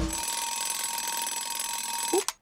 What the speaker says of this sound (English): Oop, there goes my alarm.